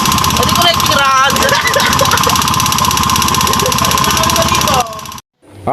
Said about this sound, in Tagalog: ang tunog naman talaga nga ng makina niya ay napakaingay